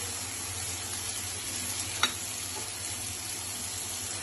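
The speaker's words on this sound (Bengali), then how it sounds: "এখন আমি মাছটা দিয়ে দিব।" Fish sizzles steadily in hot spiced oil, a soft continuous frying hiss with one brief clack near the middle, fairly quiet and without any talking.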